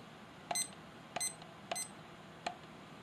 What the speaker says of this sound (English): we can demonstrate the alarm volume